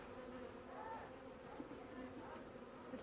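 Honey bees hum in a steady, dense drone at the front of a hive, faint but continuous, with a quiet voice murmuring beneath.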